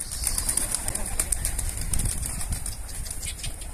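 Pigeon wings flapping in flight outdoors, a steady fluttering rustle across the whole stretch with a few brief sharp clicks, set against a low windy rumble.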